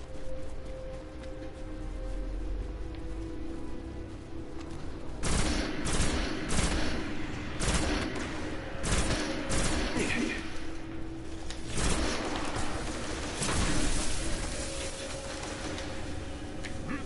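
Rapid bursts of gunfire from a newly acquired weapon in the video game Destiny ring out in repeated volleys amid game ambience, loud and close with short pauses between the clusters of shots.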